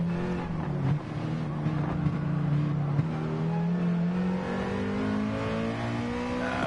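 A 2019 Toyota GR Supra race car with a low-RPM turbo engine drones steadily and pulls harder as it accelerates, its tone rising gradually through the whole run, loud and continuous with no talk over it.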